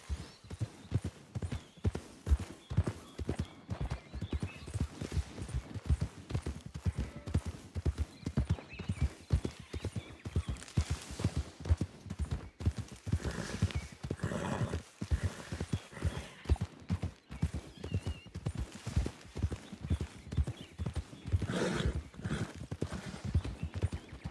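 Horse hooves clip-clop steadily in a video game, a brisk continuous trotting rhythm near and clear for the whole stretch, with a whinny now and then.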